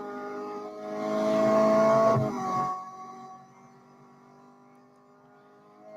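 A race car engine in the Real Racing 3 video game, a strong tonal drone that builds loud for a couple of seconds, then drops to a fainter steady hum, with no one talking.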